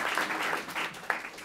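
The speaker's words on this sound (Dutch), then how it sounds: "applaus" An audience claps at a Dutch event on urban development in Amsterdam's Sloterdijk district, a short burst of moderate applause with uneven swells and one sharp clap standing out near the end.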